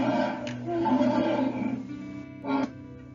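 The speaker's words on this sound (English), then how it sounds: "Roaring like a lion." A lion roar sound effect in a children's read-aloud, two rough roaring bursts, the first long and swelling, the second short, loud and close.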